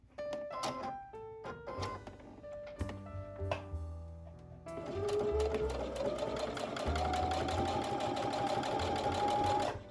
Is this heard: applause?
no